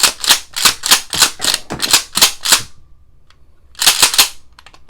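A Mossberg 590 Shockwave shotgun fires eight sharp, loud reports in quick regular succession, then pauses briefly before two or three more blasts follow, close and dominant with no talking.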